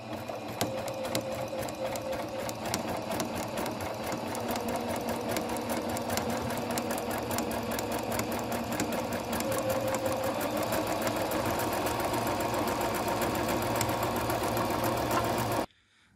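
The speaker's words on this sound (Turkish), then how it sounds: "Şimdi dikme işlemine başlıyoruz." A Singer Brilliance 6160 sewing machine stitches a zigzag pattern with a rapid, steady mechanical clatter and hum, close and continuous, stopping abruptly at the end.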